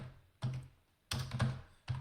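Someone types on a computer keyboard in a few soft, muffled clusters of key taps with quiet gaps, faint and nearby, with no talking.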